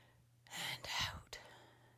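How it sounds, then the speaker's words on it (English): A deep inhalation taken during a yoga class, heard as a breathy, airy intake close to the microphone, swelling for under a second and followed by a second shorter breath sound. "Nice big deep breath in and"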